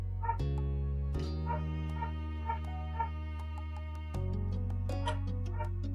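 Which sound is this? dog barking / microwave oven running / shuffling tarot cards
dog barking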